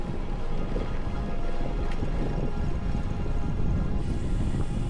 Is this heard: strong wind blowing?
yes